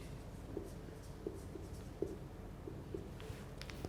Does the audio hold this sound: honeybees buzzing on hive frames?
no